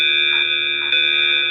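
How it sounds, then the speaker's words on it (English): A fire alarm rings out in a continuous, steady high-pitched electronic tone, loud and unbroken throughout with no voices over it. "There goes the fire alarm."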